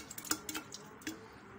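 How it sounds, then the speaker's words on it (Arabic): Turnip pieces drop into water in a jar, making a few soft, faint clinks and small splashes in quick succession, then quiet. "بس هحط بقى اللفت هنا في الميه"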